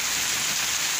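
Steady rain pours down outdoors, a dense, even hiss of drops hitting surfaces close by, constant through the short moment with no voices.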